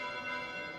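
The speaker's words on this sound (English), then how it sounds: "Bells? This late at night?" Bells ringing late at night in the video game Fire Emblem Three Houses, a steady sustained metallic ringing with overlapping tones, moderately loud and alone.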